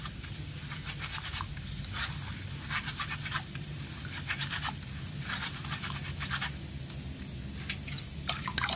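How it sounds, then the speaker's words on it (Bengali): Cumin and fennel seeds being washed in water by hand, giving a steady, moderately close wash of swishing and light scratchy rubbing that runs throughout, with a couple of sharper splashes near the end. "আমি একই রকমভাবে এগুলোও ধুয়ে নেব।"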